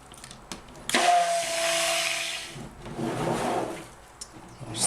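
A blender whirs through white cold process soap batter tinted with titanium dioxide, starting abruptly after a few small knocks and running in two close, steady bursts before cutting off.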